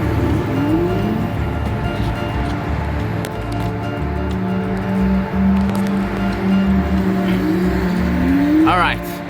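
A homemade electric scooter is ridden outdoors, its motor whine rising and falling over a steady rumble of wheels and wind, close and fairly loud throughout.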